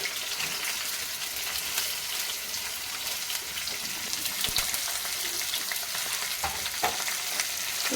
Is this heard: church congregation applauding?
no